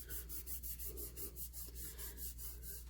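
A paper card edge is trimmed in a steady series of rhythmic rasping strokes, close and fairly quiet over a low background hum.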